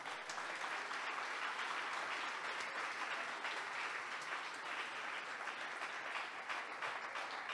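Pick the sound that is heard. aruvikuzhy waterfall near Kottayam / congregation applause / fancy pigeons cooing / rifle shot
congregation applause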